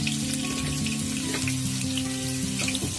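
Onion dropped into hot oil for lauki kofta gravy, a loud, steady sizzle close by, with sustained tones and no voices.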